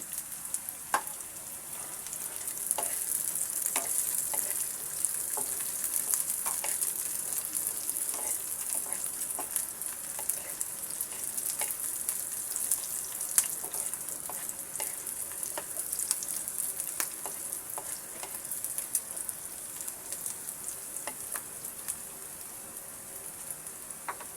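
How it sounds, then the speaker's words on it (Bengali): Chopped garlic and green chili fry in hot oil, giving a continuous close sizzle with dense crackling pops, like rain, that stays steady throughout, with no voices. "রসুন কুচিটাকে আমি সুন্দর করে ব্রাউন কালার করে ভেজে নেব দিয়ে দেবো কাঁচামরিচ কুচি"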